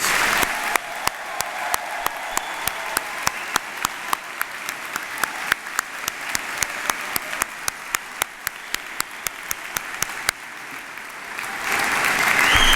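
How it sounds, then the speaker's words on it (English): A large audience applauds the graduating class of 2017 at a spring university convocation. The steady, dense applause with sharp individual claps runs for about twelve seconds and swells slightly toward the end. "giving Brock's graduating class of 2017 a warm round of applause and congratulations"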